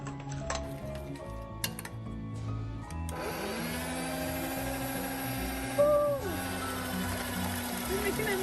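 A blender whirs steadily while mixing a creamy protein hair treatment, starting abruptly partway through and running continuously at moderate loudness, with a brief pitch shift near the end; faint kitchen clinks come before it starts.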